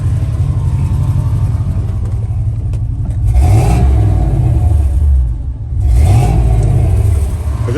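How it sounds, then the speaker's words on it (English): A two-door Chevy Tahoe engine, near and loud, revs up twice in swelling bursts over a steady low idle rumble, with a high whine riding along in the background. "Rev it again."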